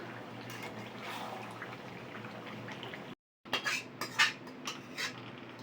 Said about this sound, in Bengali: মাংসটা কষা হয়ে গেছে, এবার নাবিয়ে প্রেসারে দিয়ে দেবো।